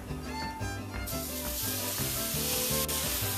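Marinated steak on an indoor grill pan gives a broad, steady sizzle that swells louder partway through, with a low tonal hum running underneath; close and continuous, no voices.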